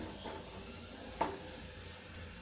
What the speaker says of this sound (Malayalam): നല്ല ബ്രൗൺ നിറാവുന്ന വരെ സവാള വഴറ്റണം